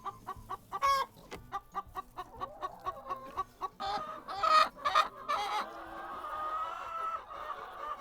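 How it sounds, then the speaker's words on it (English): Farm chickens cluck and squawk in quick repeated calls as they are let out, close and fairly loud, with busier overlapping clucking building toward the end. "go down to the chickens, let the chickens out."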